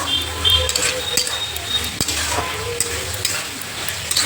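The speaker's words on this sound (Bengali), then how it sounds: "এবার ভেজে রাখা সয়াবিনগুলো দিয়ে সাথে আর একটু কষিয়ে নেব" Fried soybean chunks stir-fried with spices in a pan, a steady sizzle with spatula scrapes and light clinks throughout, close and fairly loud.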